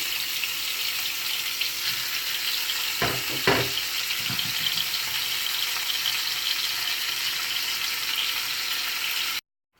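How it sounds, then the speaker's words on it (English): Beef searing in a pan for a Guinness stew gives a steady, close sizzle that holds for the whole stretch, with a couple of short clatters near the middle, then stops abruptly. "put your beef in there. And you just want to sear it really quick"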